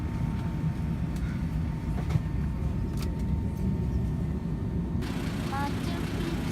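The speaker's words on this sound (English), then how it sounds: "Machu Picchu train." The train to Machu Picchu rumbles steadily in a loud, continuous low drone from inside the carriage, with faint clicks and a brief squeal near the end.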